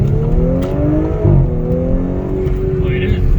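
A B9 Audi S5 fitted with a CTS high-flow catalytic converter accelerating on the road, its engine drone rising steadily and loudly from inside the cabin, with people talking over it.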